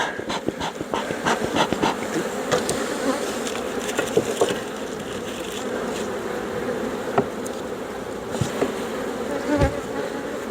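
Honey bees drone steadily close by as a horizontal hive is opened for inspection and varroa mite testing, a dense, continuous buzz with individual bees flitting past and occasional sharper passes near the listener.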